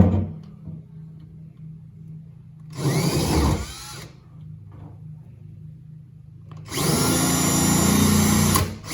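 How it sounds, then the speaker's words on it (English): A power drill fitted with a die grinder bit whines in two loud bursts, grinding at metal on a Fox Body Mustang lower door hinge, with a low steady hum and quieter clicks in between. "I got my drill with my, what will hopefully work, the die grinder bit"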